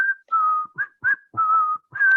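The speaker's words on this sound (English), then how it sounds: "the whistle song that became everybody's ringtone in 2004" Someone whistles a clear, close, solo tune in short and sustained notes with brief gaps between phrases, with no talking.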